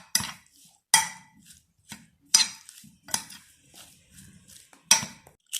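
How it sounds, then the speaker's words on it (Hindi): A spoon stirs chili sauce and soy sauce together in a bowl, giving several sharp scraping clinks spaced about a second apart, with quieter scrapes and short pauses between them. "1 चम्मच चिली सॉस का डाला है। एक चम्मच सोया सॉस का। अब अच्छी तरह मिक्स करना है।"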